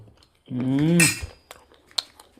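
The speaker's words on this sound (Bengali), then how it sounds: "এইরকম চামচ দিয়ে উঠাবো আর খাবো" A spoon scoops cracked nuts from a dish, making a few sharp, close metallic clinks and taps after a brief voiced sound at the start.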